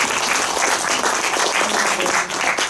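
Brisk audience clapping at a film talk event in a CGV cinema, a dense, loud wash of hands from a seated crowd that runs throughout and dips briefly near the end.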